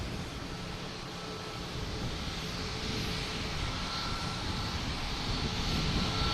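Alaska Airlines airliner inbound from Seattle on approach to Boston Logan, a steady broad jet roar that swells slightly as it nears, heard alone with no voices.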